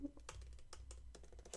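Quick clicking keystrokes on a computer keyboard, a faint rapid patter of separate taps in a quiet room, with a voice faintly in the background.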